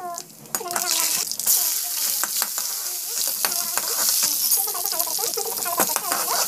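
Chana dal fries in hot oil in a pan with mustard seeds and cumin, giving a loud, steady sizzle with stirring scrapes throughout while someone talks over it.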